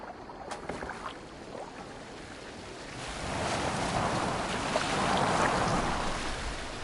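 Boat moving across water in Assassin's Creed Valhalla, a steady wash of waves and hull splashing that swells louder and denser after the first few seconds, with no talk.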